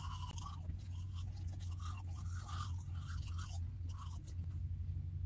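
A toothbrush scrubbing teeth close to the mic, rhythmic wet scraping strokes in bursts over a low steady hum, with no talking.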